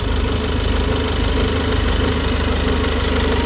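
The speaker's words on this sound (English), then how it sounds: "I hope you can hear me with the engine running" A Peugeot car engine with an uncleared fault idles close by, a loud, steady, even rumble with a faint rhythmic throb throughout and no voices.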